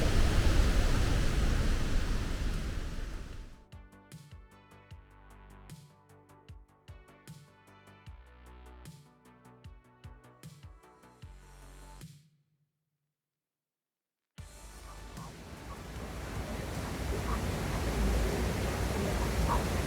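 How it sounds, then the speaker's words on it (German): A loud, steady roar of rushing water from a waterfall in Ecuador dominates at the start, gives way to other clattering sounds, then returns after a short silence. "jetzt kann man ja noch bis an den Wasserfall rangehen. Und es wird schon ziemlich laut."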